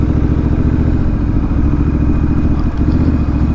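A Honda Rebel 1100 motorcycle with a DCT automatic transmission chugs through a slow U-turn, its engine loud and close in a steady, throbbing low-speed rumble.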